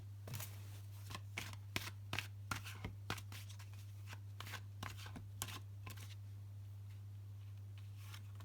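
Tarot cards are shuffled by hand in a quiet room, a series of crisp, close riffling snaps and flutters in an irregular rhythm over a low steady hum, then fading out.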